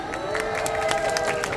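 Brief clapping from the audience at a cheese baking demo, a short burst of scattered claps over a steady tonal background hum, with a voice faintly present.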